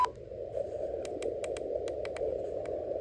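A Morse code CW signal comes through a Radioddity MLite-880 shortwave radio as a steady, thin mid-pitched tone over soft static and faint hiss, broken by a few sharp clicks.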